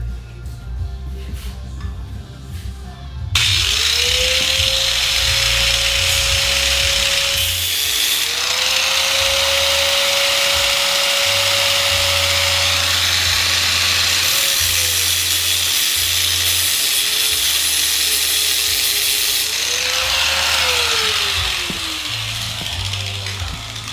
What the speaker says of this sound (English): we're just going to have to cut it out along the back edge here.